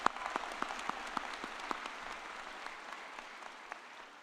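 Applause at the Kean University graduate commencement ceremony in 2024 for Crystal Miller, moderately quiet and distant in a large hall, with several sharper claps early on before the sound settles into a steady, thinning patter.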